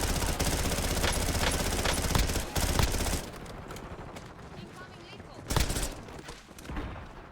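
Rapid bursts of PPSh submachine gun fire in a Call of Duty: Warzone match, loud and dense for about three seconds, then quieter game sounds with a few more sharp shots.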